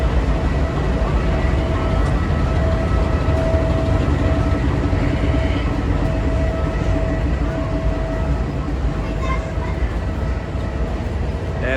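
Amtrak Heartland Flyer passenger train with Superliner cars at a station, a steady low rumble and rail noise continuing throughout with faint background voices.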